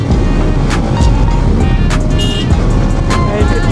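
Loud, steady wind roar and engine rumble of a Bajaj Pulsar NS200 motorcycle riding along a deserted road lined with bushes, heard from the rider's position with no pauses.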